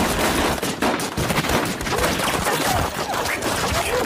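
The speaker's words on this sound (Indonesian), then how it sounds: "Ia lalu disambut oleh Heishin dan anak buahnya yang langsung menembakinya" Dense, continuous gunfire fills the whole stretch, rapid overlapping shots like a fusillade from a group of gunmen in a Rurouni Kenshin film scene, loud and close with no pauses and no voices.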